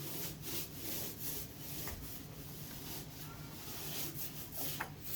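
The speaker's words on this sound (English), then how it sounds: "Basic 9-inch nap paint roller." A 9-inch nap paint roller rolls paint across a projection screen, giving a steady soft rubbing swish in repeated strokes, with a couple of faint clicks.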